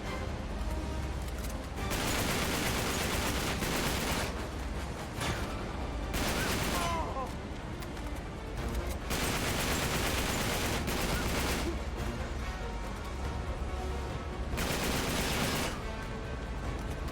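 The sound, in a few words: enemy blind fire gunfire in the video game Uncharted 3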